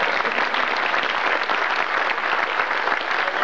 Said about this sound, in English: I'd like to give a round of applause for these guys again